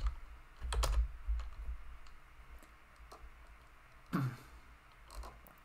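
Keystrokes on a computer keyboard while writing a formula in Tableau: a quick burst of clicks near the start, scattered single taps, then another short cluster, all fairly faint against a quiet room.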